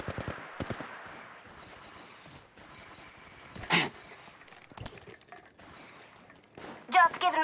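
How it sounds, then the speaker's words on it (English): Gunfire from the Apex Legends Mobile battle royale game comes in scattered bursts of sharp shots, some near and loud, others fainter, with spaced single cracks between them. "I'm getting shot at."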